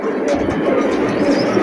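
Pigeons coo together at a pigeon market, a dense, continuous murmur of overlapping calls close by, with no talking.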